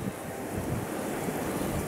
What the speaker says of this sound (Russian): Ветер жуткий, прям сносит.